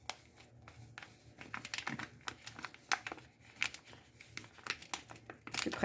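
A plastic sachet is twisted and torn open with the teeth, giving a run of sharp, close crinkles and rustles that grow denser toward the end, with no talking.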